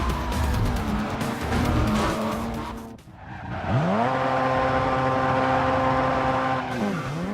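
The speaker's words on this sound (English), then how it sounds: "so we're using the Mazda RX-7 this time" A Mazda RX-7 race car in Grid 2 roars loudly at high revs, briefly cuts out, then climbs again with a sustained engine howl, shifting pitch, and tire squeal, with no talking.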